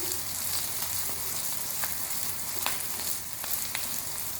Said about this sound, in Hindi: भिंडियों को बिल्कुल लो फ्लेम पे आपने फ्राई करना है